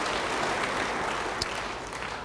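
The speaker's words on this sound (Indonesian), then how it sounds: "Yang setuju beri tepuk tangan bagi dia." A church congregation applauds together in a steady, dense wash of clapping that holds at an even level for the whole moment, with no voices on top.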